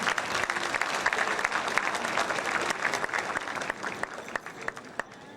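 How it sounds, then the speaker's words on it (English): At a high school awards ceremony, an audience gives award recipients a round of applause, dense and steady at first, then thinning to scattered individual claps toward the end. "Another round of applause for our award recipients."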